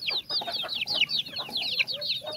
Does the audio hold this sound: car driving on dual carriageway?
no